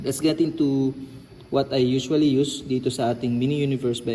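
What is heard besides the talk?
None of the usual background noises is heard.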